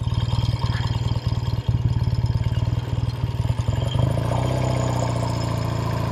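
A 1969 Triumph Daytona 500 motorcycle engine circling a parking lot, a loud, close, rapidly pulsing twin-cylinder beat that smooths into a steadier drone near the end.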